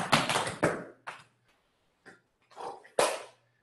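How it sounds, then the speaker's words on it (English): Tap dance steps in a step, shuffle, pull-back, toe pattern, a run of crisp, close metallic taps and scuffs in quick clusters with short silent gaps between them. "We're getting those nice, crisp pullback sounds."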